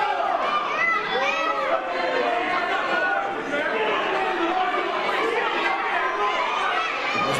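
A wrestling crowd at a Vanguard Championship Wrestling match shouts and chatters continuously, a dense, steady roar of many voices jeering at Ryan Davidson outside the ring.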